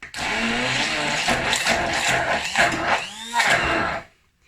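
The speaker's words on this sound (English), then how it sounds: "I like using my stick blender for this" A handheld stick blender whirs loudly and continuously for a few seconds blending pesto, its motor pitch wavering as it churns, then cuts off abruptly.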